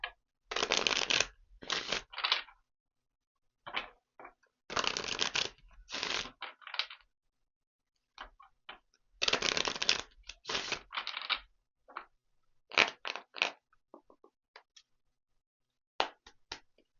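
Tarot cards are shuffled in short, close riffling bursts separated by silent pauses, with no voice present.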